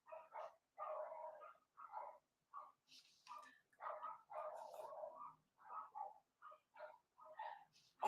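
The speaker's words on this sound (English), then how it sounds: "These dogs attacking." Dogs bark in a long series of separate, evenly spaced yaps and woofs, some higher-pitched, fairly close with short gaps between them.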